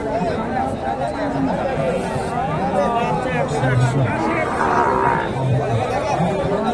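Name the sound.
crowd at Mahasthangarh cattle market, Bogura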